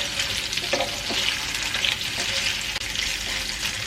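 Fish frying in oil in a pan for a Kerala fish pickle, stirred as it cooks: a continuous loud sizzle with scraping stirs and small pops, close up.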